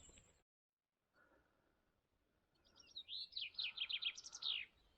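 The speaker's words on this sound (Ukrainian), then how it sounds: "Десь якась пташка. Співає." A small bird sings among fir trees in the Carpathian mountains, a quiet run of quick chirping notes that rises out of near silence after a brief faint rustle, distant and clear in a calm outdoor setting.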